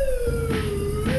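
A wailing ambulance or fire engine siren in a video game, a steady, loud tone that sweeps slowly and stays continuous throughout, with no talk over it.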